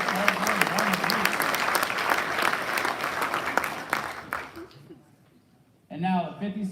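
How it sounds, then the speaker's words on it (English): Sustained audience applause at a military wing quarterly awards ceremony, loud dense clapping that fades out near the end, followed by a voice speaking over a PA. "Let's have another round of applause for all our company grade officers category nominees."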